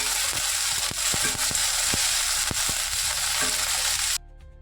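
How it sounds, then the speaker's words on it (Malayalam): Okra and potato sautéing in a hot pan, a loud continuous sizzle broken by repeated sharp taps and scrapes of a spatula, cutting off abruptly near the end. "ഈ വെണ്ടയ്ക്കയും വഴുവഴുപ്പൊക്കെ ഒന്ന് മാറി നല്ല പോലെ ഒന്ന് ഫ്രൈ ആയി വരണം"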